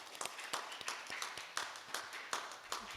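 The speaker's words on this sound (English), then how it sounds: "50 years of volunteer service deserves a big round of applause." Scattered hand claps from a church congregation at a volunteer appreciation service, sharp, irregular and fairly quiet, with no voices over them.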